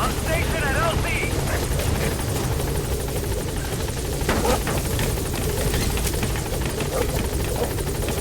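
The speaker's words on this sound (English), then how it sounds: "Arriving shortly at LZ. This is B-Quad. On station at LZ." A helicopter arrives at a landing zone in Metal Gear Solid V: The Phantom Pain, a loud continuous rotor thrum and whine filling the scene while a radio voice speaks over it.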